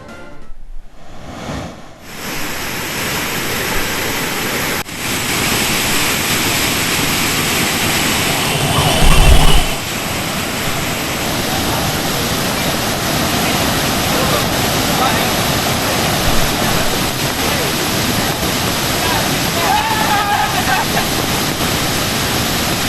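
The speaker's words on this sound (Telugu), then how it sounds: "రెండు రోజులుగా కురుస్తున్న వర్షాలు పరవళ్లు తొక్కుతోంది కొత్తపల్లి జలపాతం" Kothapalli waterfall in flood after days of heavy rain, its gushing water making a loud, continuous broadband roar that holds steady throughout with only small swells.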